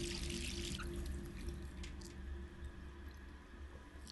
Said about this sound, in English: wash her face or turn off the water?